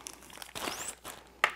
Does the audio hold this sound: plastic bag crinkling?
yes